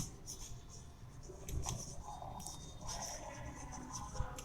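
Marker or chalk writing on a board while labelling perpendiculars in a geometry lesson, quiet scratchy strokes in short bursts, nearby, with little else around.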